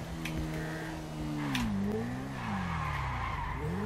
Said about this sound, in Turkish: Tabii bir de kaymasını inceleyeceğiz.